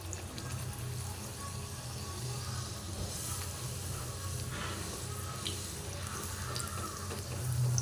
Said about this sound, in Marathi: तर आपण एका साईडला पुऱ्या तळून घेऊया